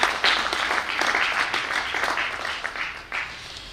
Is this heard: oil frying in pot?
no